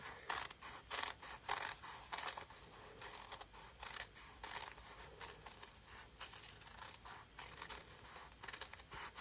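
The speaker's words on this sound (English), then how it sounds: "let me find my little scissors. And I'm just going to cut out around this little guy." Small scissors snip steadily through fabric while cutting out a shape for a fabric postcard, a close, crisp run of repeated cuts with no talking.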